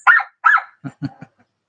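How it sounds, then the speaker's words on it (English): Dog barking in a short burst: two louder, fuller barks followed by three quicker, softer yips trailing off, close by with no talking. "I got my favorite dog and my favorite puppy."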